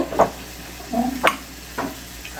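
Onions fry in hot oil in a pan for a dried-fish bhuna, a soft sizzle under a few brief, close clinks and scrapes of a stirring utensil, with no voices.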